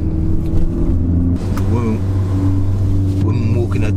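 A modified 600 bhp Volkswagen Golf R engine drones loudly from up close, its deep tone shifting as the car changes up through the gears on a country road.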